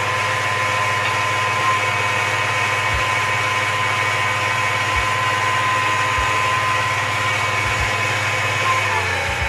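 Electric hand mixer running steadily at medium speed while whipping tiramisu cream, a continuous even motor hum with faint periodic dips, close and loud with no talking.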